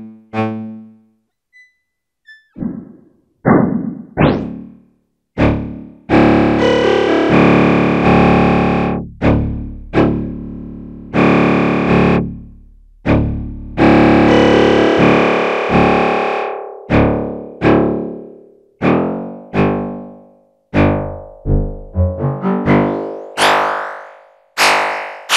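Spectral Resonator effect in Ableton Live 11 being tweaked on playing audio, giving loud, resonant, distorted tones that shift and stop in bursts, with pitch sweeps and choppy stabs toward the end.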